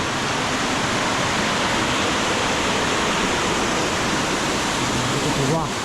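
A clear forest stream runs over slippery rocks on the path to Love Waterfall in Sapa's Hoang Lien National Park, giving a constant close roar of flowing water that holds steady throughout, with a faint brief disturbance near the end.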